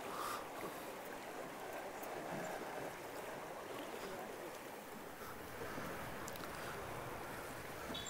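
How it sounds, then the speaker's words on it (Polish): A boat crosses a river in Peru toward an archaeological site, giving a steady wash of water and engine noise with wind across the mic. A faint voice is occasionally audible beneath it. "A teraz przeprawa przez rzekę do kolejnego małego punktu archeologicznego."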